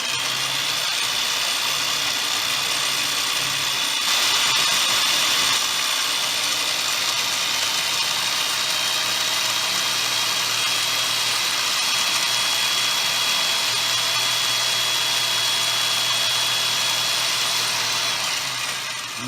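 A power tool steadily burnishes the edge of stiff lipid-tanned leather for a sporran, producing a continuous high-pitched whirring hum with faint friction hiss, close and unbroken for the whole stretch without speech.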